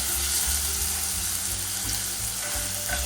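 Couscous pasta with tomato paste sautéing in a hot pan, a steady close sizzle and fry that continues throughout with no talking.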